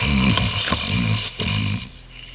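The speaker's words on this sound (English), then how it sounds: "Snore." Heavy, rumbling snoring close by, a raspy low drone pulsing with each breath and no talking.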